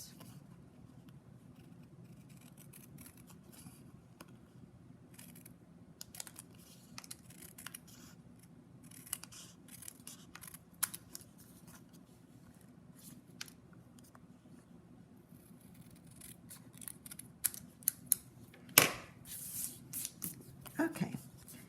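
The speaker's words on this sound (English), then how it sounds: "it's easy to see where I need to trim it off to make it straight. Cut off the excess." Scissors trim excess striped paper in a craft setting: quiet, scattered snips and paper rustles over a faint background hum, growing busier and louder near the end.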